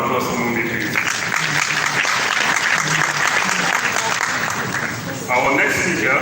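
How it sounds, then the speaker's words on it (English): Loud, dense audience applause fills a summit hall, continuous clapping from a large crowd that carries on for several seconds, with voices mixed into the cheering. "Another round of applause for Mumbi, please"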